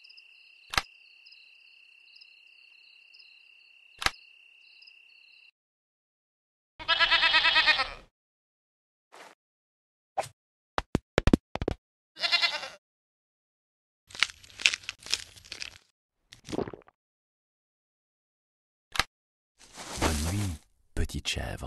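Short bleats from a small goat in separate bursts, with sharp clicks and pauses between them, fairly close and moderately loud.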